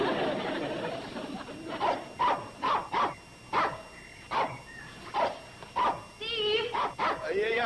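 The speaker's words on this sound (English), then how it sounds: "could you keep dog quiet?" A dog barks close by in a series of about a dozen sharp, separate barks that break into short yips near the end. Speech comes before the barks and overlaps them.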